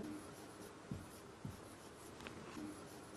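Hand-writing the Hebrew letter mem in one continuous stroke, a faint scratchy scribble of pen on paper with a couple of soft taps, quiet and close against a hissy background.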